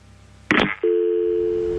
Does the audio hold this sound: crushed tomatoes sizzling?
no